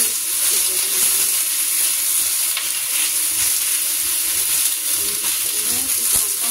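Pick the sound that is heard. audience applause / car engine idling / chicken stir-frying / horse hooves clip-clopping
chicken stir-frying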